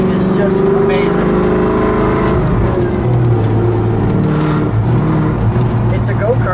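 A custom go-kart built to look like a 1948 Ford Woodie wagon runs with a steady, loud engine drone, its pitch rising and settling as it revs continuously throughout, with faint voices underneath.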